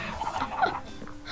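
Chickens in the video game Minecraft give soft, quick clucks and gobbling chatter over a low background hum, heard up close for about a second.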